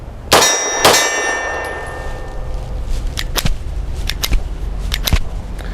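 A Tisas Tank Commander 9mm 1911 pistol fires two sharp, loud shots in quick succession nearby, followed by a series of light metallic clinks.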